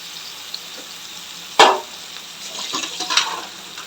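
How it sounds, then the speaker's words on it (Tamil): Ginger garlic paste hits a hot pan for tomato kurma, bursting into a loud sizzle with a sharp spatter, then a steady frying hiss with scraping stirs close by. "ஃப்ரெண்ட்ஸ் இந்த ஸ்டேஜில் இஞ்சி பூண்டு பேஸ்ட் போட்டுக்கலாம்"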